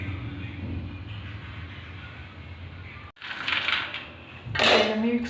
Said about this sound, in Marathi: आता याला आपल्याला मिक्सरवर बारीक करून घ्यायचं आहे